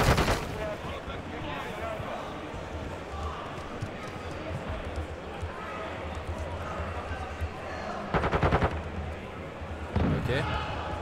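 Gunfire from the video game Modern Warfare 2 during team play, with a burst at the start and more shots near the end over a dense, steady game soundscape while someone talks throughout.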